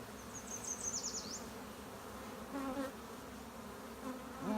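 Honeybees buzz around an open hive during a swarm inspection, faint close passes of individual bees droning in and out over a quiet background hum.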